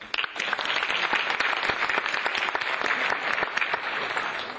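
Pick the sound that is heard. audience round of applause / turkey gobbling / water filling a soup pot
audience round of applause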